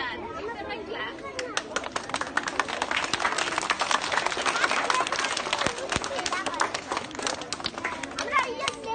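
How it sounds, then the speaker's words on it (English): A crowd of schoolchildren claps and applauds, dense overlapping hand claps mixed with lively chatter from the kids, steady and fairly loud for the whole stretch. "Give them a clap."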